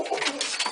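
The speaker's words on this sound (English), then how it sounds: "Looks like the birds have kind of come and landed." Pigeons coo softly after landing, giving a brief, faint run of throaty coos.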